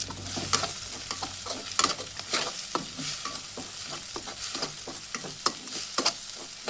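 Eggs frying in a pan for egg rice, stirred briskly with repeated scraping clatters over a steady close sizzle, no talking.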